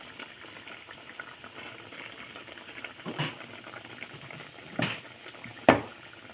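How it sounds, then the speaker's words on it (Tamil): Kara kuzhambu with lentils, brinjal and drumstick bubbling in a pot, a steady low simmering texture with a few louder pops and splutters near the end, no voices. "குழம்பு நல்லா கொதிச்சிருச்சு, காயும் நல்லா வெந்துருச்சு, எண்ணெய் பிரிஞ்சு வருது."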